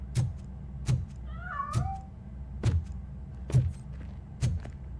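A cat meows repeatedly in the video game RoboCop: Rogue City, six short, fairly loud, close calls spaced roughly a second apart, with a soft electronic warble sounding briefly between them.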